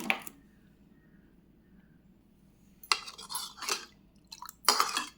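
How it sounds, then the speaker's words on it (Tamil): Water splashes into a bowl in a few short noisy bursts, separated by quiet pauses, with faint clinks of a dish, while making pani puri water. "நான் 4 பங்கு தண்ணி ஊற்றுறேன்."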